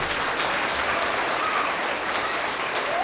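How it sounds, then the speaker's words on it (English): A crowd of young students and staff claps together at a kindergarten through second grade winter award assembly, a full, continuous wash of applause that holds steady for a few seconds without talking. "if we can give Abby a big round of applause for her help"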